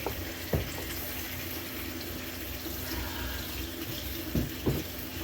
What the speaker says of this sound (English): I'm going to come over here and turn this water off.